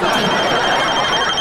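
A telephone rings in a domestic comedy scene, a steady electronic ringing tone sustained throughout the short moment with no gaps.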